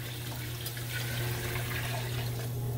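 Liquid is poured steadily into a pan of rice mixed for Spanish rice with shrimp, making a continuous close-up rushing, splashing sound over a low hum for about three seconds.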